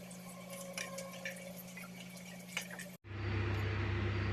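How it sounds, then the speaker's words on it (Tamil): Electric mixer grinder blending ginger, garlic cloves, mint and coriander leaves, kicking in abruptly as a loud, steady whirring drone after a few seconds of quieter kitchen clatter. "ஒரு துண்டு இஞ்சி ஒரு ஏழு எட்டு பல் பூண்டு கொஞ்சம் புதினா தலை கொத்தமல்லிலாம் அரைச்சிக்கலாங்க"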